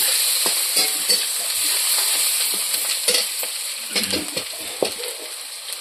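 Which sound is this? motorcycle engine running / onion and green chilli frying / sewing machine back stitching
onion and green chilli frying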